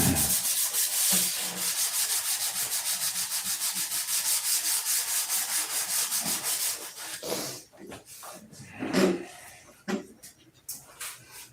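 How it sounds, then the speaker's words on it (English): Primer on a P-47 scale model is sanded with quick, rhythmic back-and-forth rubbing strokes, close and steady, then giving way to a few softer scattered scrapes and handling noises. "He's past the stage of sanding all the primer off."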